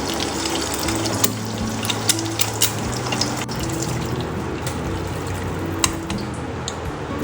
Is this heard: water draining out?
yes